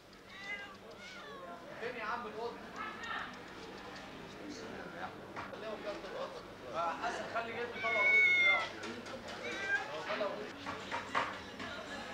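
Stray and feral cats in a Cairo bazaar meow repeatedly at varying pitches, some close and some further off, with a narrator speaking over them.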